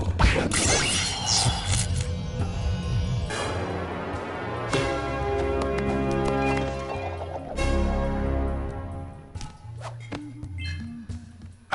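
Cannon being smashed in the Jak and Daxter: The Precursor Legacy video game, Forbidden Jungle level: loud crashing and shattering impacts with metallic ringing tones, repeated hits over about twelve seconds against a dense game soundtrack.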